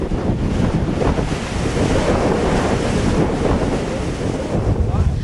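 Ocean surf rolls onto a shore and draws back in a steady, loud wash of noise, heavily buffeted by wind across the microphone.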